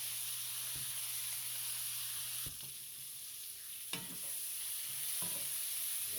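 Liver and onions fry in a pan with a steady close sizzle and hiss, broken by a few sharp clinks and scrapes of stirring.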